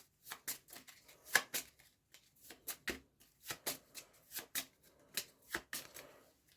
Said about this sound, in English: I'm just going to shuffle up their cards